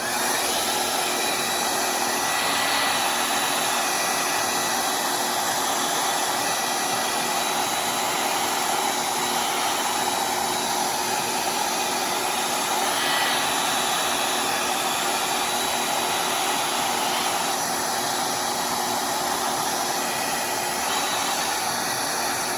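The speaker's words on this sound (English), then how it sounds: "I'm going to blow dry that real quick" A hair dryer blows steadily on wet acrylic paint, a continuous loud hissing whoosh with a faint motor whine that barely changes for the whole stretch.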